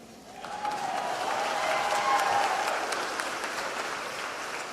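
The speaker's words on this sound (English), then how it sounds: "Give them both another big round of applause, will you?" A crowd at a GOP unity rally breaks into sustained applause, swelling quickly and holding steady at full strength, with a few voices briefly rising above the clapping.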